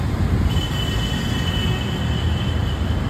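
An elevated metro train rolls along its overhead track at Subhash Nagar, a loud, continuous rumble heard from below with a thin, high wheel squeal running through it for several seconds.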